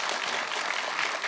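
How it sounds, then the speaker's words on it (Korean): Audience applause at a Korean Chamber of Commerce special lecture, a dense steady wash of many hands clapping throughout the short moment with no talk. "박수 한번 부탁드리겠습니다"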